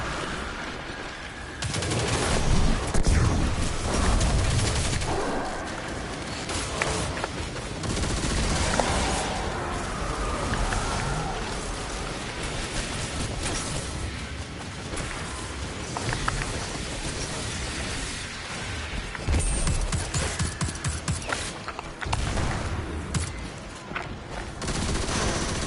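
Enemy void weapon fire in the Destiny 2 shooter, a dense continuous barrage of gunshots and bursts layered with game effects, loud and sustained throughout.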